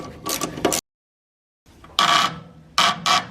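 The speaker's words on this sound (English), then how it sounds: "You can hear the rod starting to spin now." A nut is tightened on a front shock absorber of a 1973 Camaro until the rod spins, giving short bursts of close, gritty metallic rasping, one burst, a silent gap, then several more rasps in quick succession.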